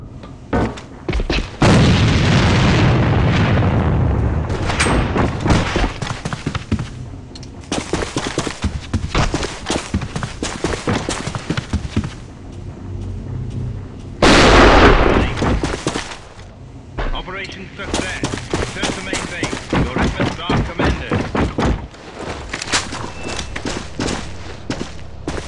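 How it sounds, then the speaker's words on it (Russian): Grenade blast and gunfire in a first-person shooter game, with loud bursts of rapid shots and a heavy boom midway, under a dense mix of combat noise and shouted voices. "Бросаю гранату!"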